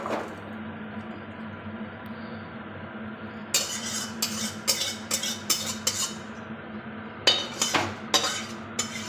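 A cooked chickpea and pea curry is scooped from the pan into a dish after the heat is switched off, heard as a quiet pause followed by bursts of metal scraping and clinks of spoon against cookware, close by.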